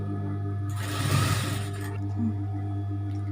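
A sewing machine stitches fabric for a kid's cap in a short, steady whirring burst lasting about a second, rising over a constant low electric hum, then falling back to the hum alone.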